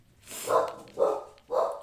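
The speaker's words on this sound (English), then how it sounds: "Sorry for the barking." A dog named Mosley barks three times in an even rhythm, fairly close and moderately loud indoors, with no talking.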